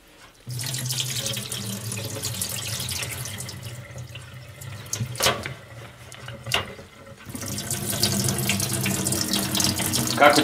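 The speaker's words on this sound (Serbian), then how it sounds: "Da odsedimo kupuse od ove tople vode." Hot water is poured off pickled cabbage leaves into a sink, a loud continuous splashing gush that thins in the middle with a few knocks, then surges again.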